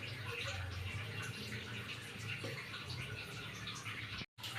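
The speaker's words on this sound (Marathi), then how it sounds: "ह्यात मी तेल टाकते" Cooking oil pours into a hot pan, a soft, continuous liquid gurgle and trickle heard quietly and close, cut off by a short silence near the end.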